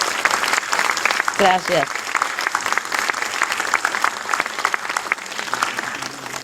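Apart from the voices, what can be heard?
audience applause at a book launch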